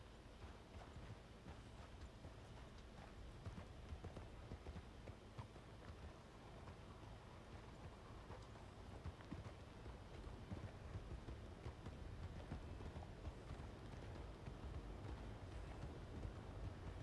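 A horse moves at an easy canter, its hooves drumming in a steady rolling clip-clop that continues throughout, moderately close and fairly quiet, with no talking.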